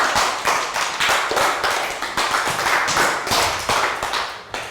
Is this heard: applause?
yes